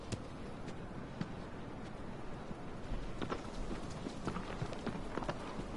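Horse hooves clip-clopping in the Shadow of the Colossus game, a steady trotting patter of soft thuds with faint wind behind, heard alone at low level.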